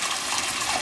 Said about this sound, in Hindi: तो पहले आपने पानी डालना है।